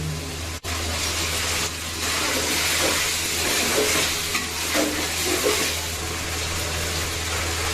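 Snakehead fish with spices sautéing in a pan, a steady close broadband sizzle running throughout over a low stove hum, with one sharp clatter near the start.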